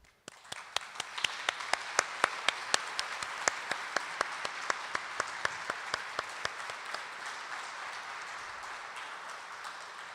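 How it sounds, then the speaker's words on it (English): Audience applause for the Speaking Proudly 2023 speech competition finalists, a dense steady wash of clapping from a sizeable hall with a few sharp, distinct nearby claps standing out. "Now for some richly deserved applause for our Speaking Proudly finalists."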